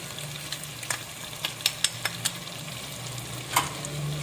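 Masala sizzles and fries in a pan while salt is added and it is stirred, with soft steady crackle and a few sharp spoon scrapes and taps, close and fairly quiet, no talking.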